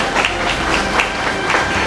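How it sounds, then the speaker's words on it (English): Sustained applause from a school annual day audience for prize winners, a dense, even patter of many hands clapping at close to moderate distance with no talk over it. "Let's give them a huge round of applause and God bless you."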